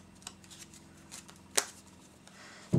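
A magician handles and shuffles a deck of cards, with a soft riffle burst in the middle and light card handling before and after, close and fairly quiet.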